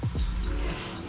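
Water runs briefly from a tap or shower, rinsing hair after a haircut, a soft close splashing rush with no voices.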